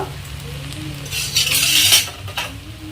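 Fenugreek leaves stir-fried in a tempering of sprouted lentils sizzle in the pan as a utensil scrapes and clinks, with a louder burst of frying in the middle and no voices.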